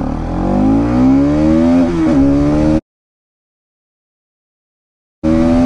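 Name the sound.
200cc motorcycle accelerating from 0 to 60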